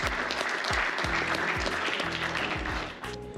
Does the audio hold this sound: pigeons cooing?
no